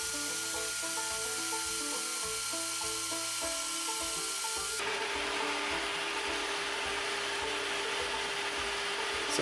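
G10 knife handle scales for an 80CRV2 chopper are worked with a tool, a continuous close rasping, rubbing grind that changes texture midway and carries on steadily without pause.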